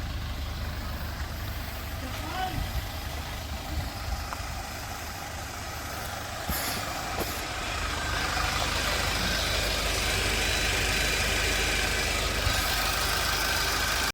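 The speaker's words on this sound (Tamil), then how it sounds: "இப்போ ஸ்பீட் பிரேக்கரில் ஹாஃப் கிளச்சில் அப்படியே ஏற போகிறோம், ஆஸ்கிலேட்டர் கொடுக்காம." A vehicle engine runs at half clutch without throttle while climbing over a speed breaker: a continuous low rumble and hum that grows slightly louder toward the end, with no talking.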